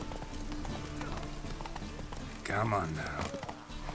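Horse hooves clip-clop steadily while riding in The Witcher 3, with game music and a voice over the top and a brief louder swell of noise near the end.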